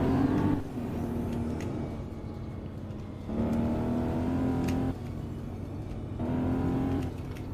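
Alfa Romeo 8C Spider engine revving on snow, three rising pulls of throttle with a steady droning note between them, close and loud with no voices.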